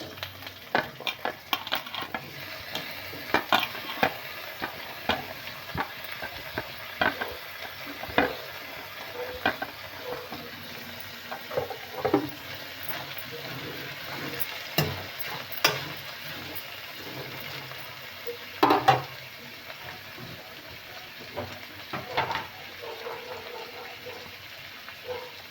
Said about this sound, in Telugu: ఇప్పుడు క్యారెట్ ముక్కలు, బీట్రూట్ ముక్కలు, ఆలుగడ్డ ముక్కలు వేసుకోవాలి.